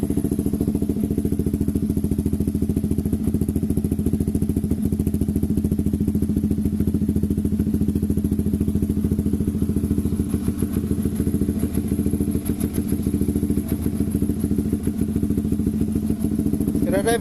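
A Yamaha XSR 155 motorcycle fitted with an SC Project full exhaust idles steadily nearby, giving a continuous low throbbing burble with a faint clattery edge and no revving.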